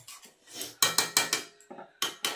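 Metal lid clattering onto a pot of spiced meat, a series of sharp close clanks and rattles in quick succession with brief ringing, loud against a quiet kitchen.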